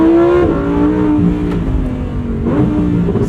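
A Lamborghini Huracan engine revs hard and loud under acceleration, its tone climbing steadily, with two quick dips in pitch as the 7-speed dual-clutch gearbox shifts up, heard up close without talk.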